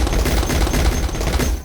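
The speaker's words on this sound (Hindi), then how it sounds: "पटाखा देख तो सही तू।" Firecrackers burst in a fast, crackling string of loud pops, a continuous rapid fusillade heard up close.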